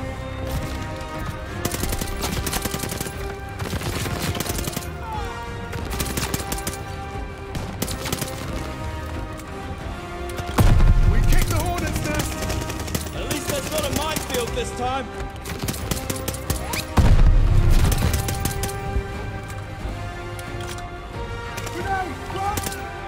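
Gunfire in Call of Duty Vanguard, with repeated dense bursts of automatic fire and a couple of heavy, booming shots standing out over steady game music and ambience.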